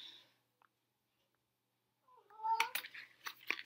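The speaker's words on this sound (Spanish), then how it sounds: "Ese que veis es mi gato" A pet cat meows a few times in a quiet room, short close cries after a brief silence, with no talking over them.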